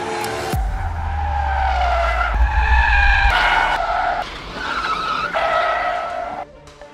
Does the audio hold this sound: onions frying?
no